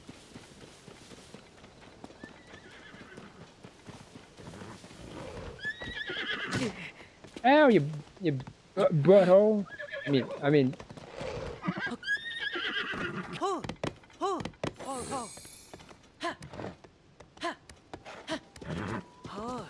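A horse in the video game Zelda Tears of the Kingdom whinnies in loud, repeated, rising cries with rapid hoofbeats mixed in. A player talks and gasps over the game sounds.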